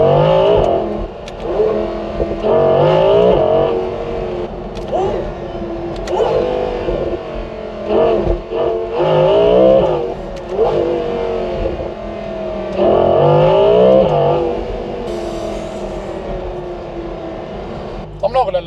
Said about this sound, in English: The V10's making all the noise, and that's the only noise we want to be hearing.